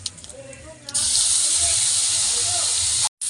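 Bay leaf, cumin and onion paste hit hot oil for a Bengali katla fish curry, bursting into a loud, steady sizzle after a quieter opening second and holding strong before a brief cut near the end.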